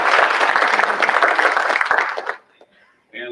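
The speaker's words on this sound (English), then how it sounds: "give them a round of applause for that." An audience at a community health event applauds with dense, loud clapping for about two seconds, which then fades to near silence before a voice begins speaking.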